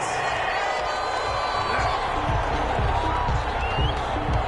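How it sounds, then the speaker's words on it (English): Stadium crowd noise in an American football video game on PS4, a steady loud roar of disapproval after a penalty flag on third down, with a commentator's voice over it. "Well, the crowd doesn't like that."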